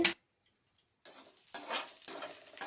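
Curry leaves frying in oil in a pan for garlic spice powder, stirred with a utensil: brief quiet, then several scraping stirs at irregular intervals over a soft crackling sizzle, close and moderately quiet.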